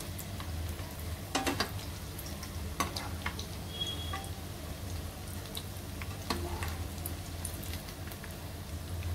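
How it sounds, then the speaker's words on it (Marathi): Food shallow-fries in a pan over medium heat with a soft, continuous sizzle, broken by scattered crackles and small pops, fairly quiet throughout. "सगळ्या साईडने असे चांगले तळून घ्यायचे आपल्याला."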